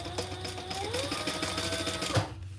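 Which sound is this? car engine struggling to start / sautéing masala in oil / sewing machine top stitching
sewing machine top stitching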